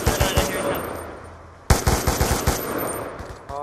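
Rapid automatic gunfire in a video game rattles in a loud, close volley that fades out. After a brief pause a second burst of fast shots follows.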